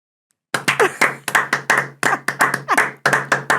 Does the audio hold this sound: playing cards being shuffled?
no